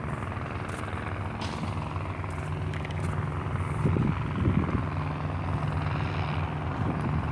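A helicopter thrums steadily overhead, its rotor drone constant and fairly loud, with some faint background clatter.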